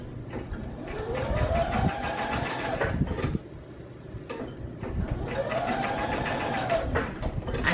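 Sewing machine running in two long bursts, stitching a gently curved side seam on a thrifted denim jacket, with a steady mechanical hum and pitch swells as speed changes and a short pause between runs.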